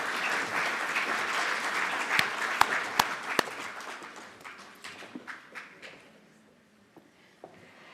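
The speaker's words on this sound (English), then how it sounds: "Can we give them another round of applause," Audience applause at a formal commemorative conference, a dense wash of clapping with a few sharp individual claps that thins out and fades toward the end.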